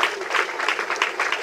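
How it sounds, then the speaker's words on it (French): Applause from a gathered crowd at a memorial gathering, a steady dense wash of many hands clapping at a moderate level throughout. "Je vous prie d'applaudir pour les seigneurs,"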